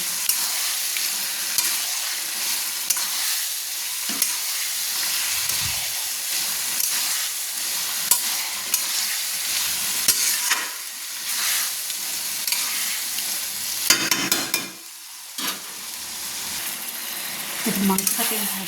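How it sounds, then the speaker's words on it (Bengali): Chicken sizzles and hisses steadily in spiced masala as it is stir-fried in a kadai for chicken darbari. Occasional scrapes and clatters of stirring cut through the loud, continuous frying close by. "আমি চিকেনটা কড়াই দিয়ে দিলাম মশলার উপর দিয়ে দিলাম দিয়ে ভালো করে আমি কষিয়ে নিচ্ছি"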